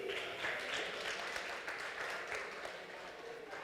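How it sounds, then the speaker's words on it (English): A stage event audience for a youth leadership program claps for youth leaders in sustained, dense applause that stays steady and fills the hall throughout. "One more round of applause for these youth leaders."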